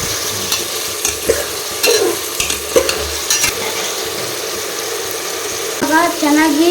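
Soaked peas, tomato and vegetables for a home-style veg pulao are stirred in a pan, with a steady sizzle under repeated scraping and clinking strokes from a spoon, plus a brief run of water near the end.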